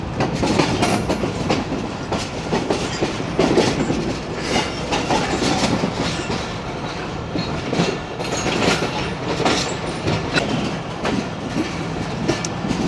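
Passenger train (39 Up, Pakistan Railways) coasting on rails with the throttle closed at caution speed, a steady loud rolling rumble of carriages with repeated clickety-clack wheel beats throughout, no voices.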